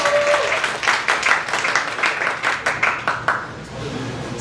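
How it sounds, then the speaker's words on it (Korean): An audience at a medical and art salon event claps in a brisk, even burst, with individual hand claps audible before the applause softens and dies away. "박수 주세요."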